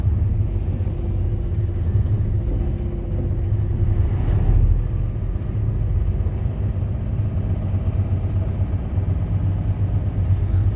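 Steady low engine rumble and road noise from inside a vehicle moving along a congested highway in China, continuous and even throughout with no talking.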